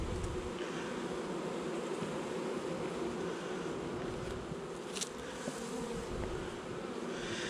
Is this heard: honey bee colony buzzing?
yes